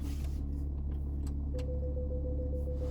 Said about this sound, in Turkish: Şöyle aracı çalıştıralım.